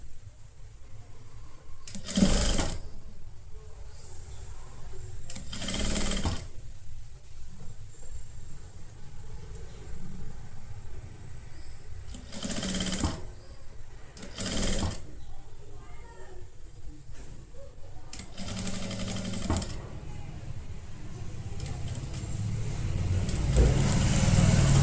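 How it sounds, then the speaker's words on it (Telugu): A sewing machine stitching a kurti sleeve seam runs in several short whirring bursts separated by quiet pauses, close by, over faint room noise. "ఇప్పుడు ఇటు సైడ్ కూడా స్టిచ్ చేసేసుకోండి."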